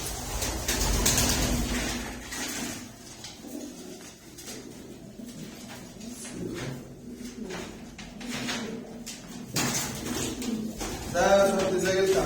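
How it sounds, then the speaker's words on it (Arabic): Pigeons coo in a room where squabs with watery, crusted eyes are being treated, soft repeated calls over a steady background hum with faint scrapes and handling noises. "وهتجيب فرد الحمام معانا"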